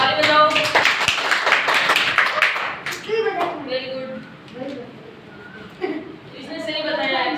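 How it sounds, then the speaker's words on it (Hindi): Children clap their hands in a classroom during a lesson about Holi, a brief run of scattered claps near the microphone while a teacher's voice praises them, followed by classroom chatter and talk. "शाबाश, ताली बजाओ।"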